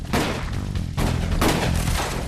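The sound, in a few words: gunfire in a battle, sound effect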